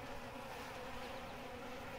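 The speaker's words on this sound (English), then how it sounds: "Here's that paper wasp again." Paper wasp and honeybees at a hive during robbing buzz steadily and close by, a dense continuous drone with no voices over it.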